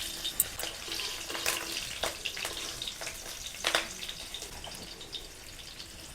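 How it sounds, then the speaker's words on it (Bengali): Slit green chillies dropped into hot oil as a tempering for a neem-leaf eggplant dish, giving a light, crackly sizzle with scattered sharp spits and pops, fairly faint and with no talking. "এবার কাঁচা লঙ্কা চিড়ে ফোড়নে দিব।"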